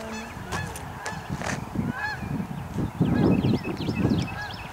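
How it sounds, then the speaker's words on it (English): Geese honk repeatedly outdoors in the aftermath of a large tornado near Fayetteville, North Carolina, their calls growing louder and denser toward the end over a low rumble of wind or traffic. "Listen to the geese."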